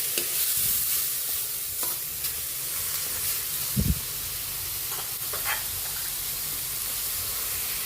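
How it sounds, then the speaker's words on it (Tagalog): Kare-kare beef stew boils in a pot with a steady bubbling hiss. A brief clunk of a utensil against the pot comes partway through, along with a few faint pops over the simmer. "Kumukulo na."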